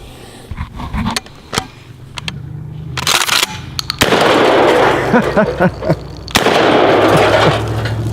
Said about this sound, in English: So let's shoot this ammo can.